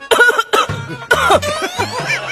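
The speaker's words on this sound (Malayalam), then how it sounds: "നീ ചുമക്കുന്ന കേൾപ്പിക്കാനാണോ എന്നെ" A person coughs repeatedly into a phone during a call, delivering several loud, harsh cough bursts in quick succession with brief gaps, close and alone.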